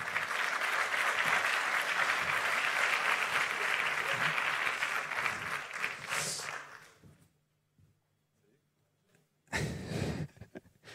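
A conference audience applauds retail executive Michel-Edouard Leclerc, a loud sustained wash of clapping that fades out after about seven seconds, followed by near silence and then a short burst of noise.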